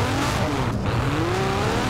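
Ferrari Enzo V12 supercar in Forza Horizon 4, driven along a fence-side path: a steady engine drone with rising and falling pitch, heard alone and fairly loud throughout.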